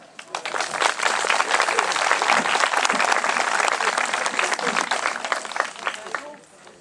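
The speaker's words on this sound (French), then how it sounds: "On peut l'applaudir" A town-hall crowd applauds the honorary mayor, a full, sustained round of many hands clapping that swells quickly, holds for several seconds, then tapers off, with scattered voices mixed in.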